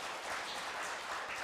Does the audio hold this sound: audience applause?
yes